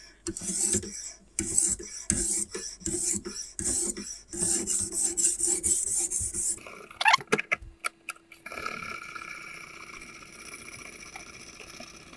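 A kitchen knife drawn repeatedly across a whetstone on a Ruixin Pro RX-008 guided sharpener, rhythmic rasping strokes up close, then clicks and a quieter stretch.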